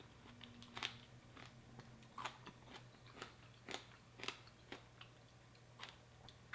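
Soft, close crunching bites into gaya melon with its thin, crunchy rind, about a dozen short crisp crunches spaced irregularly over a faint steady hum.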